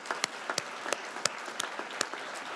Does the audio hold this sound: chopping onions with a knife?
no